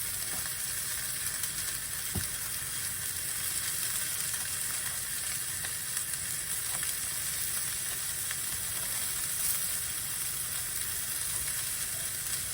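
Crunchy cheesy tacos frying on a hot griddle give off a steady, even sizzle that hisses on without a break, fairly close, with no talking.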